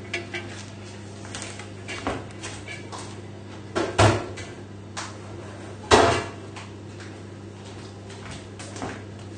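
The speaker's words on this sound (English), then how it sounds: "So you can take the pan and the sieve out and just bung that in your sink." A metal pan and sieve are dropped into a kitchen sink, giving a few sharp clanks and clatters, one near four seconds and another near six, over a steady low hum with no talking.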